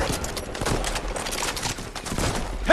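Rapid shotgun blasts in a multiplayer shooter video game, a dense continuous stream of overlapping shots and crackling bursts filling the whole stretch at steady loudness.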